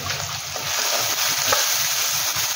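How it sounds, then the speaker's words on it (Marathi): Tempering for masoor amti with asafoetida sautéing in hot oil, a loud, steady sizzle with soft stirring scrapes underneath. "छान असं परतून घ्यायचं"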